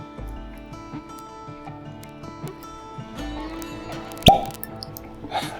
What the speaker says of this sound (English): This is also one of the most satisfying cork pops I've ever heard.